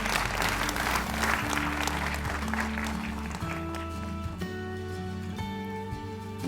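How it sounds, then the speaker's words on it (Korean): Audience clapping at the opening ceremony of a North Korean human rights week, sending off a gospel singer and actress: a burst of applause blended with sustained instrumental music, the clapping thinning as the music carries on alone. "예, 다시 한번 뜨거운 박수로 보내주시길 바랍니다."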